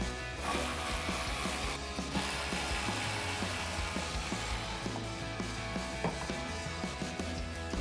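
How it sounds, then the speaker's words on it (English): Ratchet with an 8 mm socket clicking steadily while backing out fender flare bolts on a Jeep Wrangler TJ, the rapid pawl ticks close and fairly quiet, running continuously with no talking. "Go back to our ratchet, 8 millimeter socket, and take out all of our bolts."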